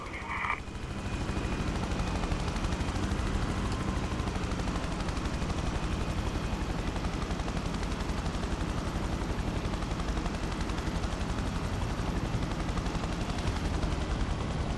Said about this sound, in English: So this is the transport helicopter.